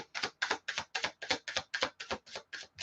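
A deck of tarot cards is shuffled during a reading, giving a quick, even run of about a dozen crisp tapping riffles, close and distinct, with no talking.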